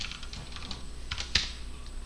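Computer keyboard keys clack in short uneven bursts during a web-development coding lesson, close and fairly quiet, with one sharper keystroke standing out near the end and no voices.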